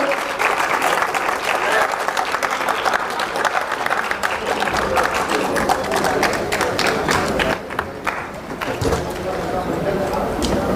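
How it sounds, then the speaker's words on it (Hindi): A hall audience at a ceremony honouring a revered guru with an award claps steadily and loudly, a dense continuous patter with a brief dip partway through, with a voice faintly present beneath it. "आपकी तालियों की ध्वनि"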